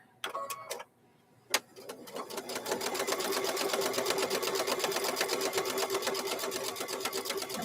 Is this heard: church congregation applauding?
no